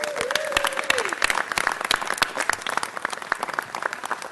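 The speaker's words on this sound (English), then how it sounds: "Give them a round of applause." Audience at a city council meeting clapping for neighborhood council members, a dense burst of applause with a few sharp near claps and a brief voice over it early on, continuing steadily.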